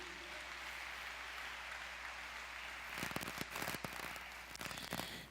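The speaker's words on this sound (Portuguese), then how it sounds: "Uma salva de palmas para o Senhor Jesus." Applause breaks out in a church congregation honoring Jesus, a dense crackle of many hands clapping that swells in the second half after a quieter lead-in, with no talking.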